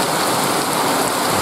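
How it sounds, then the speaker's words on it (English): Heavy rain pours down steadily, a dense, loud and continuous wash of drumming noise with no gaps or voices, fitting a downpour on a tin roof. "I always thought having a tin roof would be nice to hear the rain sprinkling and stuff"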